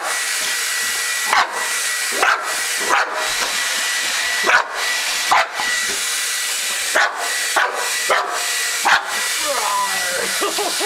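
An American Bulldog barks and snarls in repeated short bursts at a running blow dryer, whose steady, loud hiss of rushing air fills the background throughout.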